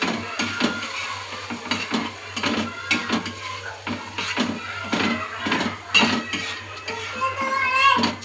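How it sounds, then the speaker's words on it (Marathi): Eggs cracked into a pan for egg bhurji and stirred, with repeated metallic clinks and taps of a utensil against the pan in an uneven rhythm, close and fairly loud, a faint sizzle underneath. "चला तर आता आपण यामध्ये अंडी फोडून टाकूया."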